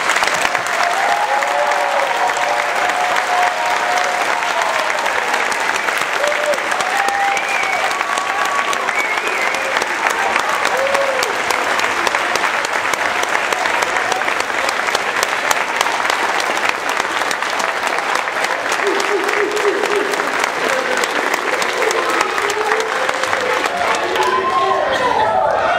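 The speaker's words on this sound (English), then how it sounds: "Please give Coach Bates a round of applause." Sustained crowd applause for head coach Bates at a Dallas Cowboys football camp, steady dense clapping that runs unbroken and loud throughout, with scattered voices mixed in.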